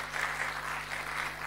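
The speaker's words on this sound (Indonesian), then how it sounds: "Tepuk tangan buat Tuhan." Brief burst of congregation applause in a church service, a soft, dense wash of clapping heard at a distance over a low steady hum, lasting just over a second.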